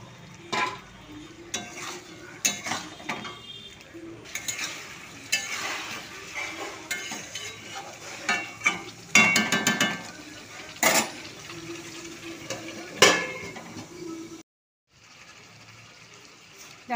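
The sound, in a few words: stirring Golbari-style chicken kosha with yogurt in a pan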